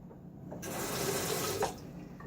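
A Gillette Sheraton safety razor is rinsed under a running tap, a steady close hiss of water with a short splash as the blade passes through the stream, no talk.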